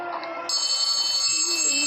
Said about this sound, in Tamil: இங்கேயும் சவுண்டு ஏது ஃபோன் பண்ணுற சவுண்டு.